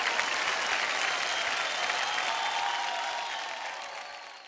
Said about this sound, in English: Ladies and gentlemen, a round of applause.